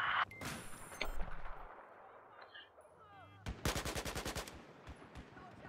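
Gunfire in Battlefield 4 multiplayer, scattered heavy shots and explosive bangs early on, then a tight burst of rapid automatic fire near the end, with distant battle noise between.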